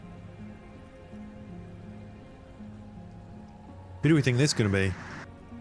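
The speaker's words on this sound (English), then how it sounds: "Rain's getting worse, by the way." Rain in the video game Disco Elysium falls as a soft, continuous patter under a low droning ambient score, and a voice speaks briefly near the end.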